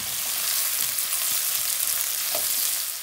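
About 240 grams of onions frying in hot oil produce a loud, even, close-up sizzle that holds steady with a few faint stirring knocks underneath.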